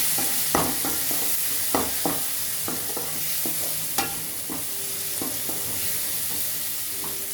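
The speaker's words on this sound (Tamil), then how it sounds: "தக்காளி நல்லா வதங்கி இதில் கொஞ்சம் டர்மரிக் ஆட் பண்ணிட்டேன். நல்லா வதங்குங்க." Tomatoes with turmeric fry in a pan with a steady sizzle, while a spoon stirs and scrapes against the metal in irregular clinks and knocks throughout.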